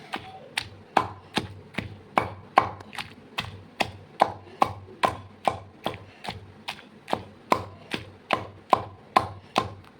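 Green chillies and ivy gourd pounded into chutney in a stone mortar, a steady series of about twenty-five close, sharp thuds at an even rhythm with no voices.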